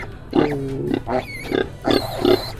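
Pigs on a small farm grunt and squeal close by in several short bursts with brief pauses between them, loud and clear with no talking over them.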